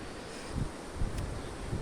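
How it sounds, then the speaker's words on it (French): Steady wind buffets the microphone, a continuous rushing roar with a few stronger gusts and no voices. "il y a beaucoup de vent"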